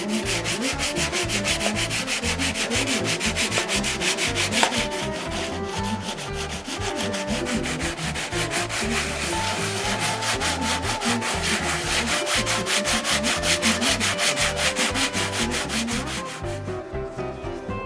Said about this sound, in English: give it a light sanding with some real fine sandpaper right now